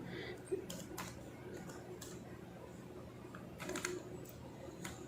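A computer keyboard is typed on in short, irregular bursts of soft clicking keystrokes, fairly faint and close, with some quiet background sound between presses.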